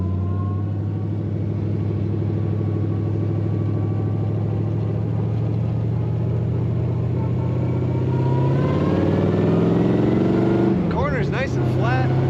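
A 1932 Ford Roadster street rod pulls away in second gear, its engine a steady low rumble that builds toward the end as it accelerates, close and continuous.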